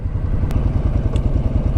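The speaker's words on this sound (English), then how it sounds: "it has an aero exhaust in it, and since it's from the days of no catalytic converters, it effectively has a straight pipe" Classic motorcycle with an aero exhaust and no catalytic converter, effectively a straight pipe, running with a steady, punchy low rumble and a couple of brief clicks on top.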